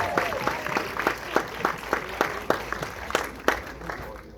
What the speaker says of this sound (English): Patrick, should we have another round of applause for Patrick?